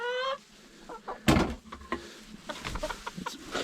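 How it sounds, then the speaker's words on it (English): Bantam chickens clucking and murmuring nearby while being fed in cold weather, a short high call at the start followed by scattered soft clucks and handling noises. "there's our other little bantam, Oreo."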